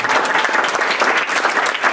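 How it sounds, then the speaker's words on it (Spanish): A church congregation applauds during a Sunday worship service, a dense, steady wash of many hands clapping together, fairly loud and continuous for the whole stretch with no voices standing out. "Dijeron que iban a dar un fuerte aplauso"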